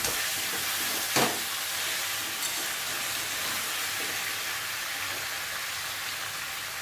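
Food frying in a pan while being stirred, a dense continuous hissing sizzle like rain with one brief scrape early on, steady and close with no speech.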